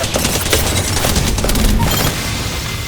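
Rapid Prowler SMG fire in Apex Legends, a dense, loud stream of overlapping shots with booming low end running nearly the whole stretch alongside busy game effects.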